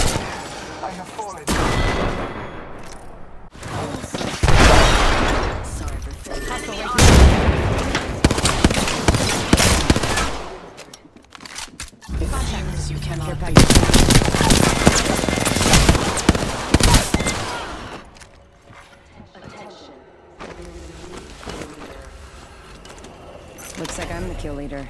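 Bursts of rapid automatic gunfire and single shots ring out in an Apex Legends match, coming in dense clusters with pauses between them, mixed with game voice callouts and other in-game effects.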